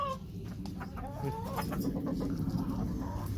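A rooster clucks and murmurs several times close by on a free-range chicken farm, short throaty calls over a steady low background rumble.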